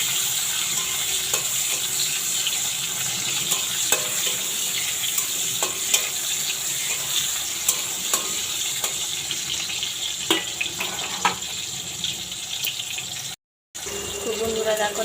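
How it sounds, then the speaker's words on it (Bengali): Tomatoes frying in oil in a pan, a steady close sizzle with occasional stirring clicks and a brief cut near the end. "টমেটোটা একটু লাল লাল করে ভাজা হবে"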